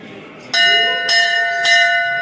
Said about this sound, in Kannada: ನಮ್ಮ ಗಂಟೆ ಆಚೆ ಹೋಗುವಾಗ ಹೊಡಿಬಾರ್ದು, ಒಳಗಡೆ ಬರುವಾಗ ಹೊಡಿಬೇಕು